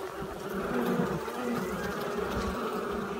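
A honeybee swarm buzzes steadily and close, a dense continuous drone of many wings without any talk.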